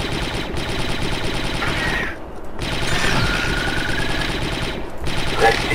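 Rapid, continuous alien weapon fire from the Star Wars: Republic Commando video game, a dense mechanical rattle with short gaps, loud and up front while voices talk over it.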